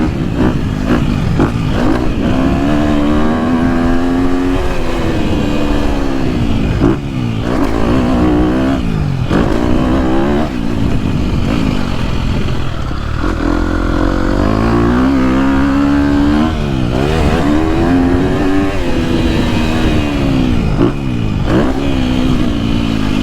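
KTM 250SXF and 350SXF dirt bikes rev steadily and loudly close by, the engine note rising and falling through repeated throttle roll-ons with no talk over it.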